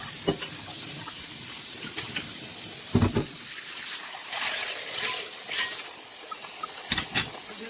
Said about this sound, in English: I'm going to turn on my cold water, rinse the beans off, fill my bowl back up with water